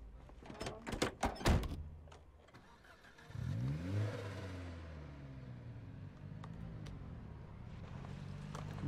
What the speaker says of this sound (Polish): Chyba też zmienili dźwięki samochodów, o ile się nie mylę.